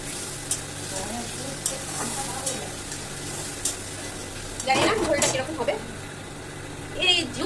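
Potatoes sizzle steadily in a hot pan in a home kitchen while being stirred, with the scraping of the stirring growing louder toward the end.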